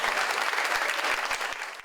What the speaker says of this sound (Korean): 박수로 한번 시작할게요.